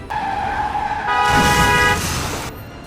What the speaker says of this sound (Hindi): उसने अपनी गाड़ी स्टार्ट की और ऑफिस की तरफ चला गया